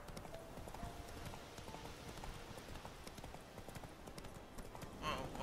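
Horse hooves clip-clop in a steady, rapid rhythm on a road in the video game Witcher 3, moderately loud under continuous game ambience.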